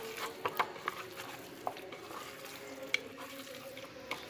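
Meat being worked together with masala by hand or spoon, producing soft wet squelches and scattered light clicks against a bowl, quiet and close with brief irregular taps.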